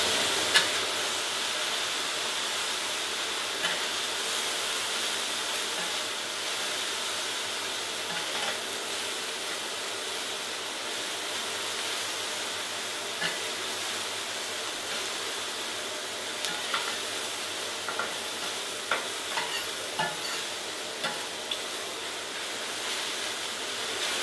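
Cherry tomatoes sizzle with burgers on a hot plancha, a steady even frying hiss with faint scattered pops running throughout, no voices.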